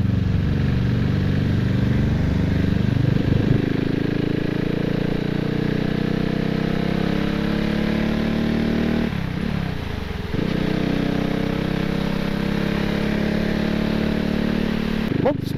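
A CCM Spitfire motorcycle engine drones steadily while riding past a limestone quarry, its pitch rising and falling with speed, over constant wind rush.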